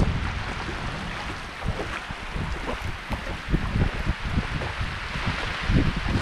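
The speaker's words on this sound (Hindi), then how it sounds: "अचानक से बारिश चालू हो गया है और बहुत तेज बारिश चालू हो गया है" Heavy rain pouring down at a river in a Chhattisgarh village, a dense, loud broadband rush of falling water and flow with irregular splashy bursts throughout, no voices.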